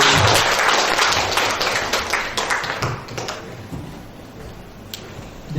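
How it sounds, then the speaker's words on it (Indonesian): An audience on a campus applauds Pak Freddy, with dense clapping that starts loud and thins out over a few seconds into scattered claps and quieter room noise. "Kita kasih tepuk tangan ya untuk Pak Freddy."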